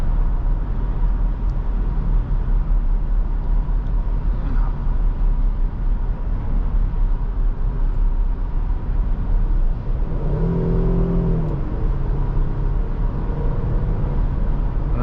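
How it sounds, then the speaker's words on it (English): A standard Jeep with a V6 engine accelerating, a steady broadband drone and whir of engine and road noise filling the cabin, with a rising tonal growl partway through as the throttle is pressed harder. "the V6, actually has a lot of engine noise when you go press on it"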